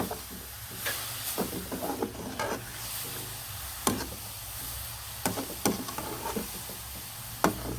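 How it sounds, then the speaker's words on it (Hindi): Carrot halwa (gajar ka halwa) roasting and being stirred in a pan over a high flame, a steady sizzle with repeated scraping knocks of the spoon, close and continuous with no voices. "इस तरह आपने इसको अच्छे से भूनना है"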